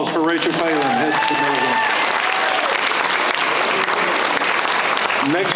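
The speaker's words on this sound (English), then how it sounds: "one more round of applause for Rachel Phelan" An audience at a high school signing day bursts into loud, sustained applause and cheering, with voices mixed in early on.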